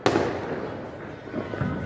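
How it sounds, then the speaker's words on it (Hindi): Firecrackers burst during Diwali celebrations on a home rooftop: a sharp, loud bang opens, then dense crackling and popping continue steadily with no talk. "तो भाई मस्त पटाखे छूट रहा है"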